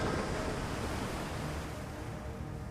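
Sea waves wash in a continuous, close rush of surf, a thick and even churning hiss with no pauses or voices over it.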